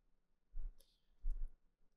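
Two short bursts of computer mouse clicking during editing work in DaVinci Resolve, close and fairly quiet, spaced about half a second apart with near silence around them.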